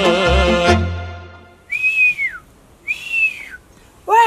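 A person whistles a simple melody in two long gliding phrases, alone and fairly close, with a short stretch of singing just before and another voice starting at the end.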